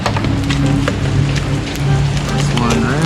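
Hail and wind batter a garden in a steady, dense patter of hits that runs the whole time, loud and close, with a voice speaking over it.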